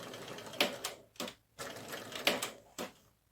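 A sewing machine stitches a straight seam on fabric near ribbon, running in several short bursts of rapid mechanical chatter with brief pauses between them, close and fairly quiet.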